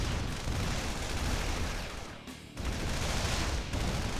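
Sustained naval and rocket barrage in the IronRush real-time strategy game: a dense, continuous wall of rumbling gunfire and explosions, dipping briefly midway before resuming at full loudness.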